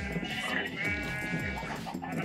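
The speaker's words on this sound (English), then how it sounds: "we got some baby blue sheep" Sheep bleat in a farming video game, a few wavering calls rising over game music and chatter, with a person talking throughout.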